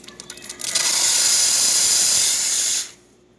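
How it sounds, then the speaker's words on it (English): Steam wand on an Expobar espresso machine, freshly serviced, opens with a few sputters, then blasts a loud, steady hiss for about two seconds before shutting off. "Let's go ahead and test the steam."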